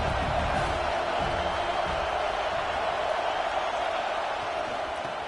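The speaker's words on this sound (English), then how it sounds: "This crowd bringing the energy and noise early." A large stadium crowd at an American football game roars in a constant, distant wash of noise, with no distinct cheers or claps standing out.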